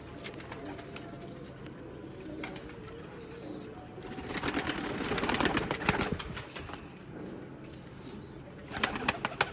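Sialkoti pigeons coo in soft, low repeated phrases near the birds, with a few sharper bird calls and a louder burst of wing flapping or movement midway. No speech is heard.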